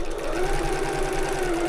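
Sewing machine stitching a bag gusset seam with a steady, close, fast mechanical whirr and needle chatter throughout, with no talking.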